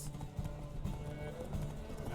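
Horses gallop in a rainy race in The Witcher game, with rapid hoofbeats drumming steadily under a loud voice.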